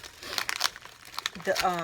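Gift wrapping paper crinkles and tears as a birthday present is opened, with quick bursts of rustling close by while someone talks excitedly over it.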